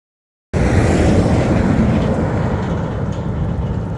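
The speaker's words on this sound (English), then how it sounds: "Lots of lumber trucks." A heavy lumber truck passes close by on a road along the Florida Trail, with a loud, low rumbling roar that begins abruptly and stays steady, slowly easing off toward the end.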